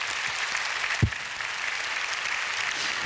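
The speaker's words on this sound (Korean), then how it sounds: "감사의 박수합시다." Church congregation applauding during a sermon at a Korean church, a steady broad wash of clapping throughout with one brief low thump partway through.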